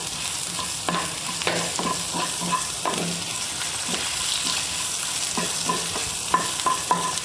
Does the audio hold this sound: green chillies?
yes